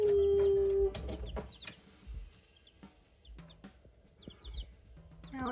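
Barred Rock and Olive Egger chickens cluck in soft, scattered bursts close by, with a loud low rumble in the opening second before the quieter clucks continue.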